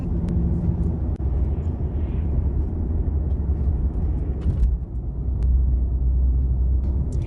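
Steady low engine and road rumble inside a moving car, continuous and fairly loud for the whole stretch, with no talking.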